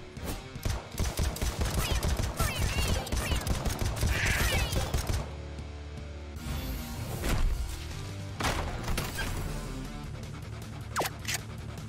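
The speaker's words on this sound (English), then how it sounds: "Oh, the AK carabine." AK carbine gunfire in the AK-Xolotl game on Nintendo Switch, rapid loud bursts of shots in the first five seconds, then scattered single shots and game effects.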